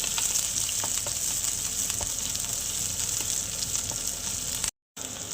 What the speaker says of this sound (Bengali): তেল গরম হয়ে গেছে ফোড়নে দিয়ে দিচ্ছি কালো জিরে দিয়ে দিচ্ছি একটা পেঁয়াজ কুচি পেঁয়াজটাকে একটু হালকা ভেজে নেব